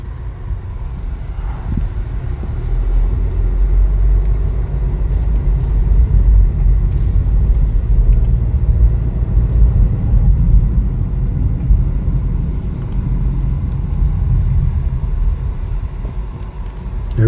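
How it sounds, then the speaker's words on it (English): A 2021 Chevrolet Trailblazer LS on a test drive gives a steady low road and engine rumble inside the cabin, continuous and fairly loud throughout, with faint higher rattles now and then. "Set to take it for a test drive."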